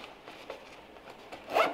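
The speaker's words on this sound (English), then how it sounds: "The zippers, I also noticed they made them thicker." Zipper pulled on a K9 Sport Sack Rover dog carrier with thick, lock-style zippers, a quiet rasping run ending in a louder close zip, heard alone.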